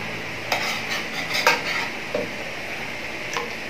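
Ginger added to a hot pan while cooking a Filipino dish with fried grouper, okra and moringa, giving a soft sizzle with a few scattered stirring and utensil scrapes.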